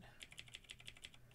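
Rapid keystrokes clatter on a computer keyboard, about eight crisp clicks in a quick uneven rhythm, close but quiet, over a faint low hum.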